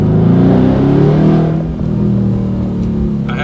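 A car engine with long-tube headers revs loudly up close, its deep exhaust rumbling and rising, then settling into a steady throaty idle with a brief higher whine near the end.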